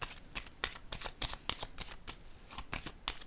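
Tarot cards are shuffled in quick, crisp riffles and flicks, then set down, a dense run of sharp papery snaps heard close and alone with no talking.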